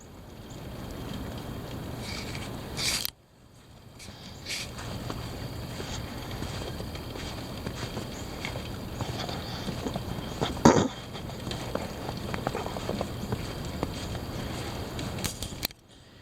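Heavy wind blows steadily as a continuous broad rushing roar into the microphone, with a couple of louder buffeting gusts and bumps partway through and no talking.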